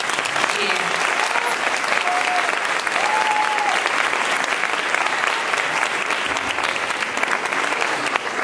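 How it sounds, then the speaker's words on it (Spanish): A festival crowd in Novelda applauds at a festivities ceremony, loud, continuous clapping from a large audience that holds steady from start to finish, with a short whistle rising briefly above it. "Un aplauso."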